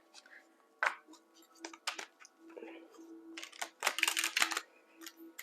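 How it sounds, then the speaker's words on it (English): Tarot cards shuffled by hand during a reading: soft riffling and tapping bursts, close and quiet, scattered irregularly with a louder flurry near the end. "One more shuffle here."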